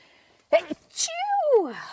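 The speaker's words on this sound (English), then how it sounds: "excuse me, I'm going to sneeze" One sharp, close sneeze bursts out, then a person speaks briefly right after.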